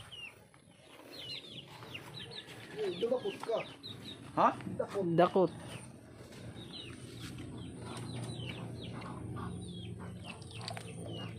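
Chickens, including a black hen, cluck close by, with a brief burst of wing flapping in the middle, while people talk quietly in the background.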